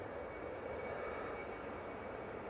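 Air France Embraer jet beginning its takeoff roll at Manchester Airport, a steady distant engine roar holding level throughout with no voices.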